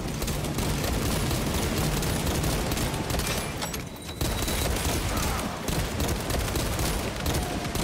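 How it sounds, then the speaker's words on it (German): Dense, continuous gunfire from Warhammer 40K Space Marine 2 rages loudly and close, with overlapping automatic bursts and heavy booms that briefly dip for a moment before surging back. "Schusswechsel"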